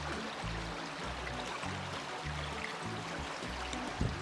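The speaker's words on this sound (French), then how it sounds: "Et voilà le ruisseau." A small garden stream flows with a continuous broadband wash of running water and faint low burbles, steady and moderately close throughout.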